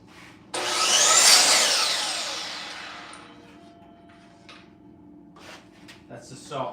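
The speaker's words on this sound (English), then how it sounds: "That's the saw off screen you guys hear." Saw cutting wood in a workshop, heard from a distance: one rasping, whining cut that rises quickly and slowly fades over about three seconds, followed by a few faint knocks.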